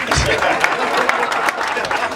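Audience applause at a thanksgiving meeting: dense, scattered hand clapping from a crowd, fairly close and continuous, with voices murmuring underneath.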